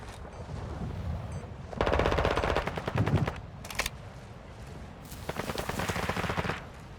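Automated sentry gun in Call of Duty DMZ firing rapid bursts of gunfire, loud and close, with short pauses between volleys and a final burst after a gap.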